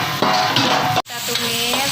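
Leftover pork and fat sauté in a hot pan with a dense, close sizzle and scraping stirs, broken by one brief pause before the frying hiss resumes.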